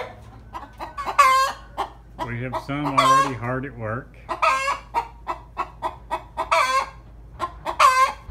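Chickens cluck repeatedly in a chicken house, with a rooster-like drawn-out call in the middle; the calls come in close, fairly loud bursts at an uneven pace while a person speaks briefly.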